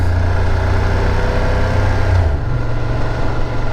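A 2024 BMW F800GS motorcycle engine idles close by with a steady low rumble, its pitch dropping slightly partway through.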